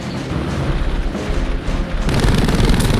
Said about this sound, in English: Some strafing here. And this light machine gun's just way too weak.